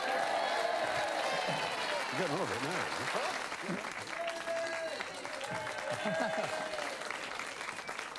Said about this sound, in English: we'll all clap our hands